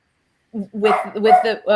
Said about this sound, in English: sorry, my dog's gonna bark